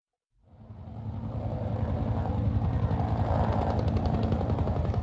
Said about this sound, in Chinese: 直升机嚟到啦，准备嚟救我。